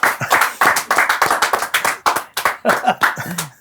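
An audience at an event for the Gujarati film 'Goti Lo!' claps for actor Makrand Shukla, with dense, rhythmic, fairly loud applause close by that keeps going for a few seconds.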